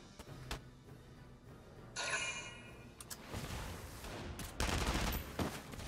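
Tommy gun fire in Valkyria Chronicles 4, a dense burst of rapid gunshots and impacts filling most of the stretch, loud and close with short gaps between volleys.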